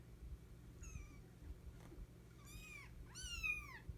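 Several high, thin meows from 2.5-week-old kittens with rising and falling pitch, a few separate cries then a quick overlapping burst near the end, over low background rumble.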